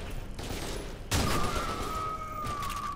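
Close shotgun blast in the F.E.A.R. 2 video game, a single sharp loud bang over a din of background gunfire, followed by a lingering tonal ring.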